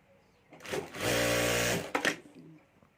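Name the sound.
sewing machine stitching clutch bag pocket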